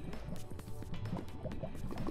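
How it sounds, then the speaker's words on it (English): Fresh water is drunk in TerraFirmaCraft, a Minecraft survival mod, with repeated gulping and sloshing liquid sounds in quick succession, close and fairly loud over a light ambient background. "We can actually just drink the water."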